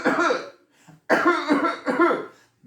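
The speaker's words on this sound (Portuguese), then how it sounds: "Quando for tossir," Someone gives a demonstration cough into the elbow: three or four short, loud, husky coughs, close up, in quick bursts with brief pauses between.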